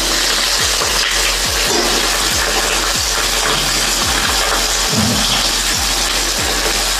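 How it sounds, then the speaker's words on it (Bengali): Spiced fish sizzles in a frying pan with a loud, constant hiss and crackle, punctuated by soft low knocks and bumps throughout; no voices. "দেখো বন্ধুরা, মাছটা ফ্রাই করতে বসিয়ে দিয়েছি"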